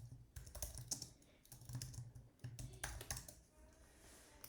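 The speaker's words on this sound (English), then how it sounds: "type in a description if you want" Quick bursts of typing on a computer keyboard while entering a description into a budget spreadsheet, with irregular clusters of close, crisp key taps and short pauses between them.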